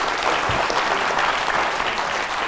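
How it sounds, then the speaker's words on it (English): A crowd applauding, dense steady clapping throughout with no break. "A round of applause, please, for John."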